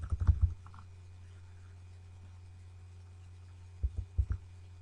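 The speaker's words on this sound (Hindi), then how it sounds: "मैं अब एरो क्लिक करता जा रहा हूँ" Keyboard arrow keys on a computer are tapped in two quick bursts of several clicks each, one at the start and one near the end, with quiet hum between.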